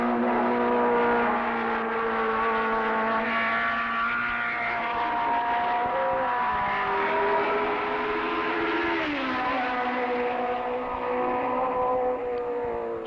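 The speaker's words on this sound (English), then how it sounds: "Jackie Stewart in his Formula One Matra Ford at Silverstone, but not in a race." A 1960s Formula One Matra Ford race car running at Silverstone outside a race, its engine note a loud, steady whine that shifts pitch as it holds speed, continuous throughout with no talk.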